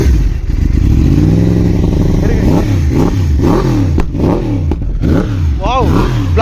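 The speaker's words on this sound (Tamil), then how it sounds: "கிராஸ் பிளேன் இன்ஜினோட அந்த சவுண்டை பாருங்க, சூப்பரா இருக்குல்ல." A Yamaha motorcycle with a cross-plane engine is revved up close, its exhaust rising and falling in a series of sharp, throaty blips that climb and drop in pitch over a steady rumbling idle.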